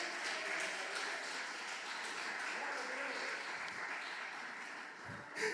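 A church congregation applauds in praise, a steady, fairly quiet wash of clapping that holds evenly throughout, with voices mixed in underneath.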